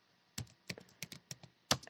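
Computer keyboard keys tapped in about five separate, crisp strokes spread over two seconds, close and fairly quiet, with no talking.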